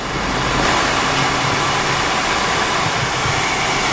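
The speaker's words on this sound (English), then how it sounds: "the fans blow loud. I want y'all to hear this." Air-conditioning fans in a 2018 Chevrolet Trax blowing on setting 4: a loud, steady broadband rush of air that swells up at the start and then holds constant, with no talking.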